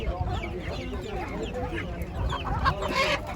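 Chickens and chicks cluck and peep in a busy, noisy poultry market in Ankara, with people talking in the background throughout.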